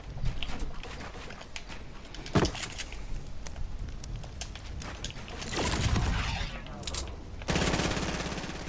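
Video game gunfire as an opponent shoots at the player in a one-on-one playground match: repeated bursts of rapid shots and sharp impacts, with louder surges of fire toward the end.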